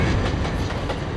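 Train pulling into a railway station in Trainz Simulator, a dense rolling rumble with rhythmic clickety-clack of wagon wheels over rail joints, loud and close.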